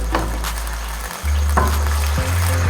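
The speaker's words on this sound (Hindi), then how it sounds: "1 मिनट तक चिकन फ्राई करने के बाद इसके अंदर 1 टेबल स्पून हम अदरक लहसुन का पेस्ट डाल देंगे।" Chicken fries in a pan with ginger garlic paste for a korma, giving a loud, steady close sizzle with a brief dip as it is stirred, and no talking.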